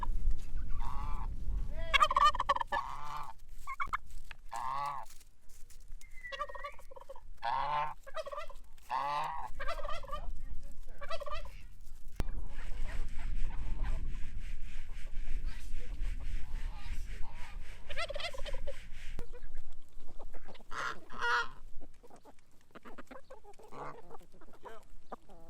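Poultry gobbling and clucking at feeding time on a cool morning, with busy overlapping calls, some loud and close, others farther off, continuing throughout.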